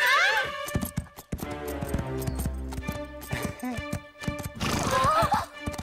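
A cartoon horse whinnies loudly at the start and again near the end, with rhythmic clip-clop hoofbeats of galloping in between, set under animated background music and a short burst of voices.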